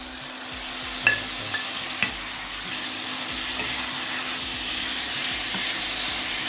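Beef and vegetables stir-frying in a hot pan give a continuous close sizzle, with a few sharp utensil clicks near the start and a steady hiss throughout.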